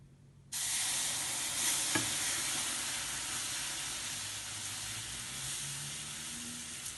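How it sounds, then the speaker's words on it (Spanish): Milk is stirred into a béchamel sauce in a pan over low heat, with a steady sizzling hiss starting abruptly and continuing alongside faint scraping stirs. "Le vamos a ir añadiendo poco a poco y removiendo continuamente para que no se nos queme y tampoco se quede grumo"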